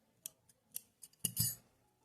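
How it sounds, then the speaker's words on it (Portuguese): Scissors snip through crochet yarn during amigurumi keychain work, a handful of quick, close, quiet clicks and a final longer rasping cut, with near silence between them. "Posso cortar o meu fio"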